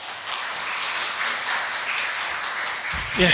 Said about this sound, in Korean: 새롭게 활발하게 출발한 우리 글로리아 찬양대를 위해서 격려의 박수 부탁드립니다.